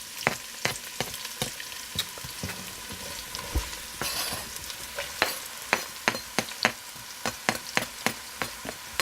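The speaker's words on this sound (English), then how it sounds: "So we're going to add our onion." Onion frying in olive oil in a pan, a steady close sizzle punctuated by many sharp spatula clicks and scrapes at an irregular rhythm, with no talking.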